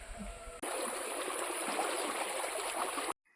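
A small stream in the countryside flows with a steady, even rush of water, close and continuous, cutting off abruptly at the end.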